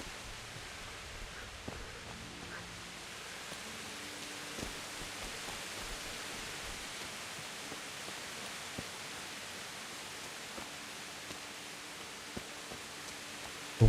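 Steady rain in the medieval open-world game Kingdom Come: Deliverance, a soft, even hiss of falling drops on surfaces lasting throughout with no talk over it.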